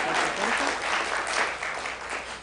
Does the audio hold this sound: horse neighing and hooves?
no